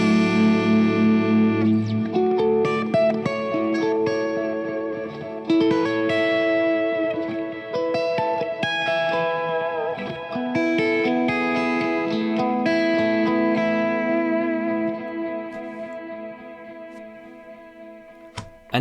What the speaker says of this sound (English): And then I have this dual delay from the DD500.